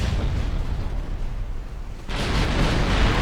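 Torpedoes striking and exploding against a warship in the naval game Ultimate Admiral Dreadnoughts: a steady, heavy roar of blasts that dips briefly and then swells louder, with no speech.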